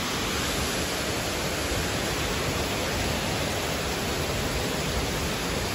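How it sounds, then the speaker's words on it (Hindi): Heavy rain pours down steadily in a dense, unbroken hiss during a storm, with water flooding the road and trees swaying, loud and continuous with no voices. "तेज बारिश हो रही है यहाँ पर"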